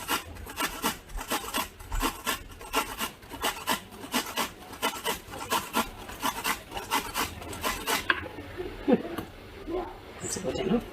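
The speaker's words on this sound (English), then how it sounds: "I grate my garlic on this side, so it will be the finest." An onion is rubbed over a hand grater for a sweet gourd salad, making steady rhythmic rasping strokes close to the microphone that stop near the end, with some talk.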